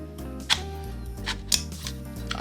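A control on a Sony FX2 camera makes small, close mechanical clicks, with a couple of sharper clicks standing out against a quiet background and no voice.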